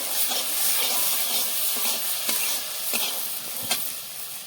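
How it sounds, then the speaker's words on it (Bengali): Cumin and coriander paste fries steadily in a pan for a papaya bhaji, giving a close, continuous sizzle with a few soft stirring scrapes and clicks throughout. "জিরা ধনিয়া বাটা ভালোভাবে ভেজে নেব।"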